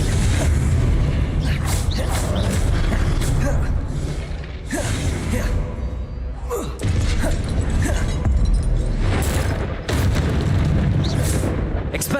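Confringo fire-blast spells from Hogwarts Legacy erupt in repeated booming bursts, dense and continuous across the whole stretch, with a few sharper cracks and a voice calling out now and then over the game combat.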